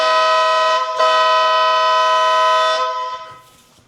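A loud aftermarket golf cart horn fitted to a Yamaha G29 blares close up in one long, steady blast of nearly three seconds. A faint rattle follows as the blast tails off.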